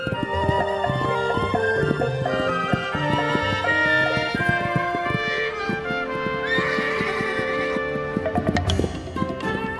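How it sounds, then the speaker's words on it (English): Wild mustang stallions and mares calling out in the American West, repeated loud whinnies and neighs close by over clip-clopping hooves and movement. "Stallions spar and court young mares in a drama as old as the hills."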